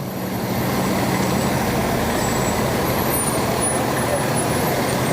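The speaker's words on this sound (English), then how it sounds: "And Company 3, that's our newest fire engine." A fire engine in a Memorial Day parade in Ferndale rumbles steadily at close range, with a hiss of air brakes and broad road noise throughout.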